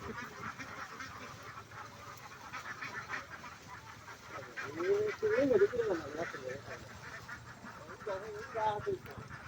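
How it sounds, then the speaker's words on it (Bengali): Farm ducks floating on village pond water quack and call in short bursts, louder near the middle and end, over a low outdoor background with people talking. "হাঁসগুলি পানিতে ভাসতেছে"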